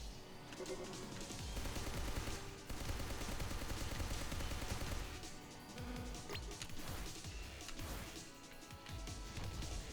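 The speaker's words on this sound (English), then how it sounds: "Gotta shake these missiles." Missiles and gunfire in a video game, with dense rattling shots, crashes and explosions layered into a continuous loud clamor throughout, and talking mixed in.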